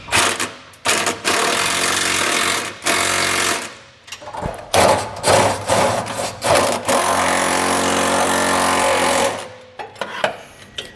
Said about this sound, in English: tighten on the nut side with my 3/4 inch socket on my impact